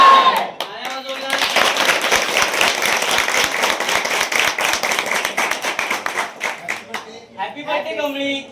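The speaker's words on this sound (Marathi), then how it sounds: "टाळ्या वाजवा." Schoolchildren clap together at a birthday celebration, the applause loud and dense for several seconds, then thinning into scattered claps before voices take over near the end.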